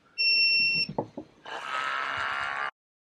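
An espresso machine gives a sharp electronic beep, followed by a couple of soft clicks, then a steady mechanical whirring hum that runs for about a second before stopping.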